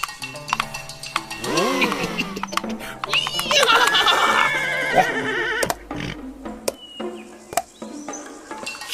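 A horse whinnies loudly in a Korean folk tale cartoon, giving several rising and falling neighs over a busy soundtrack with clip-clop hooves and other sharp effects.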